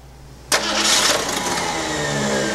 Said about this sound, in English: Okay, we're ready to start this car up